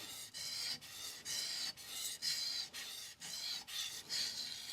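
A Kohetsu HAP40 210mm gyuto knife is sharpened on a King NEO 800 whetstone in steady, rhythmic strokes, each a close, gritty scrape separated by short pauses, about nine passes.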